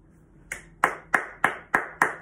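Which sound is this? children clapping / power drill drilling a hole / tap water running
children clapping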